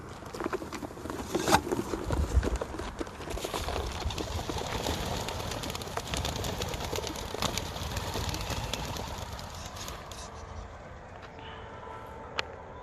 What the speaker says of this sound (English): start my stopwatch right now and let the birds out